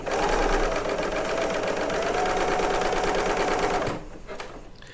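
Serger sewing machine stitching quilt fabric seams, a loud, steady, rapid mechanical whir running for about four seconds before stopping abruptly, followed by a few faint handling noises.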